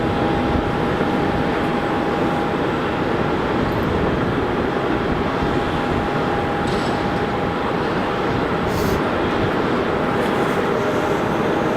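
A Boeing 787-8 taxis at Manchester Airport, a loud, steady, broadband jet-engine roar with a constant whine running through it, heard continuously from fairly close with no talk.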